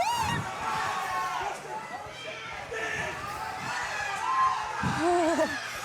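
Loud crowd at a live esports LAN event roars and cheers steadily throughout, a dense wash of voices with whoops rising near the end.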